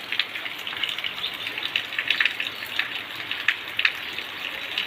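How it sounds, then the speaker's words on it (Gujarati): Light monsoon rain falls steadily over a village, a soft, even patter with scattered louder drops, fairly quiet and with no voices. "ધીમી ધારે વરસાદ પડે છે"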